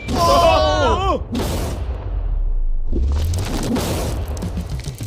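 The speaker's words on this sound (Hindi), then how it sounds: "इस धमाके ने सच में मुझे डरा दिया।" A deep, booming TNT blast blowing up a safe rumbles out after a brief whistling sweep, followed by a lingering roar and debris-like noise.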